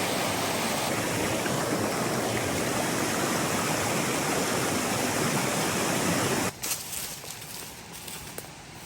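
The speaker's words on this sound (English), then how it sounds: "this waterfall is not usually this full, so that's a lot of water" A creek waterfall running unusually full after a storm, a loud steady broadband roar of rushing water close by that drops and turns more uneven near the end as the listener moves away.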